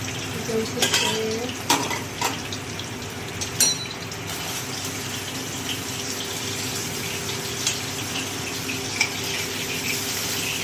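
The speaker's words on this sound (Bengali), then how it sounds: "এই মাছগুলো এবার ভাজতে দিচ্ছি" Fish frying in a pan on a home stove, a steady sizzle with scattered clinks and scrapes of a utensil against the pan and light dish sounds.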